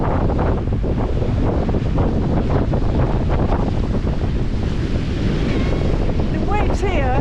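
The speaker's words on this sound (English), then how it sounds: "The waves here are about 6 foot tall." Constant roaring wind buffeting the microphone over crashing ocean surf with waves about 6 feet tall, loud and continuous throughout.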